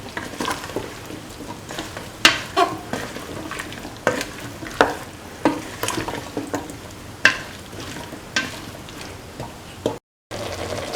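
A spoon stirs beef and bottle gourd stew in a hot pot, scraping and clacking in irregular strokes over a soft sizzle, close by.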